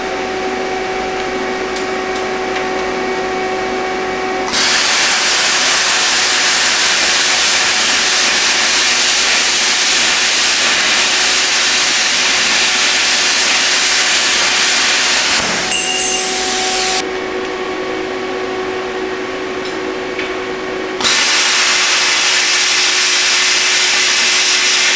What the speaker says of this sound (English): I'm going to use my plasma cutting section. I've got some 1/4 inch by 2, and I've got some 1/8 inch by 3. So I'm just going to make a couple of cuts